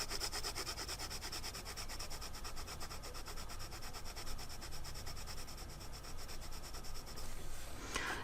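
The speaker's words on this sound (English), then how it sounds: "I just erased this part even though it didn't really need erasing." An eraser rubs back and forth over a colored pencil swatch laid down with Marco Raffiné colored pencils, a close, steady, continuous scrubbing on paper with no voices.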